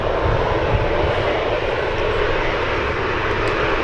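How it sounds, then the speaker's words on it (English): A SkyWest Embraer E175 regional jet arriving at San Francisco International Airport gives a loud, steady engine roar with broadband rumble that holds evenly throughout, close and unbroken. "We have an E175 coming in. E175, we have SkyWest flying in from, as I check the cheat sheet, San Diego, California."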